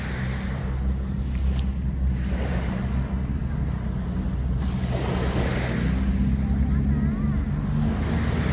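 Ocean waves wash onto Songjeong Beach, a steady roar of surf with wind noise hitting the microphone and faint voices in the background.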